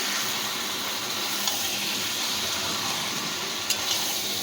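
Chicken curry sautéing on a low gas flame, heard as a dense, even hiss of sizzling with a couple of faint utensil clicks, steady and close.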